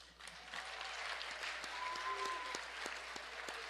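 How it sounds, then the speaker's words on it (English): Banquet guests at a high school football banquet applaud a team trainer, a fairly faint, distant ripple of clapping from a room full of people, with a few sharper individual claps and a brief tonal whine over it. "Let's give a round of applause for Danielle Keys."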